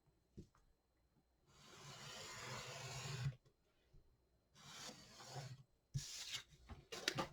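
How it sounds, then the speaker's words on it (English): Paper is trimmed in several separate passes, each a scratchy rasping stroke of a second or two, close and quiet with brief pauses between them. "I'm going to cut off 3 inches off the side"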